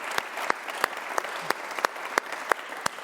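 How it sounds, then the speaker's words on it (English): An audience at a talk on net zero claps together, with regular distinct claps standing out over a soft rustling background and no one speaking. "give them a round of applause"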